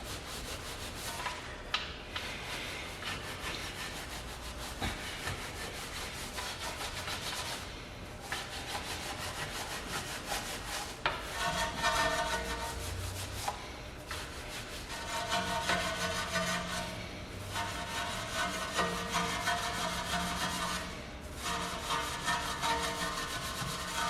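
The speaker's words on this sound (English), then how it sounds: "we're going to scrub the inside of the barrels. So I got this soft brush right here. Just going to give those a good scrub." A soft brush scrubbing the inside of a Tesla's wheel barrels during a detailing job, producing a steady, continuous rubbing scrape with periodic short pauses between strokes, close and alone.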